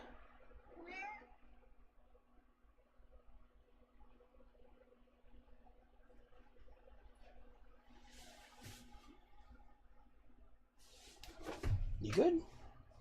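A house cat named Dexter gives a couple of short meows, one early and a louder one near the end, with a person talking softly between them.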